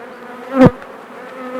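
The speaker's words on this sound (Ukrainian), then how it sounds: "Але наші бджолки стараються." Honey bees buzz at hive frames full of uncapped honey in summer, a steady hum underneath with one louder bee passing close for a brief moment.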